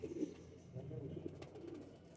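Pigeons in a Pakistani fancy-pigeon loft coo softly and continuously, a low throaty warble rising and falling close by, with faint rustling and no talk over it.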